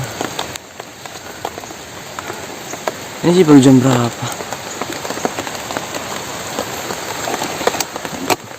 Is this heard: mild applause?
no